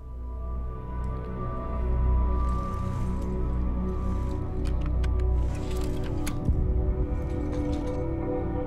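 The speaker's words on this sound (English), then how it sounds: "And a faucet. Didn't even know that you can turn it on." Water runs from a faucet in Deus Ex Human Revolution, a soft continuous trickle and splash with faint drips and a glassy clink near the end, quiet game ambience underneath.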